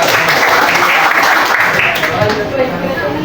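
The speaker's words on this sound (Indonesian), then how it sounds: "Sudah tepuk tangan dulu" A classroom of students claps together in a loud, dense burst of applause that carries steadily before tapering slightly, with some voices mixed in.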